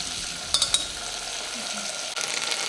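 Butter and garlic paste sizzle steadily in a pan for a creamy garlic sauce, a continuous bright frying hiss with a few brief stirring clicks near the start.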